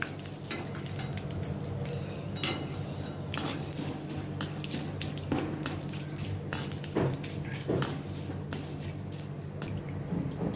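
Curry leaves fry in oil in a pan for murmura chivda, a steady low sizzle broken by frequent clinks and scrapes of a metal spoon against the pan, with no talk.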